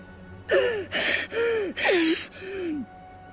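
Five loud, close gasps for breath from a character in God of War, ragged and strained, each a sharp heaving breath with short pauses between, over faint game background.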